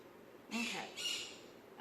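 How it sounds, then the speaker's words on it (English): Pet birds let out two loud squawking calls in quick succession, close by, each lasting about half a second over a faint background hum. "My birds never fail. They gotta get into the video."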